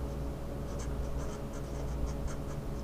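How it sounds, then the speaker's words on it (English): Pen writing labels on a heart anatomy diagram, soft scratchy strokes in short bursts over a steady low background hum, close and quiet, with no talking. "So I'm just going to go ahead and write in the names of the valves."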